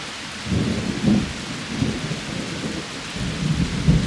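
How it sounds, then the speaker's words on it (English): Heavy rain pours steadily with low rolls of thunder rumbling through it, a dense continuous downpour heard close and loud, with no voices. "One day, it started raining very heavily."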